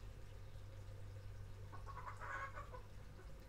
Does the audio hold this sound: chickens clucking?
yes